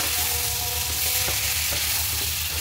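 Bombay chilies hit a hot pan of cooking pumpkin and sizzle steadily, a dense continuous frying hiss with occasional stirring clinks, close and with no talk.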